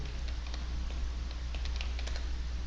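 Keys tapped on a computer keyboard in quick irregular bursts as a package name is typed into a search, light clicky strokes close by over a constant low hum.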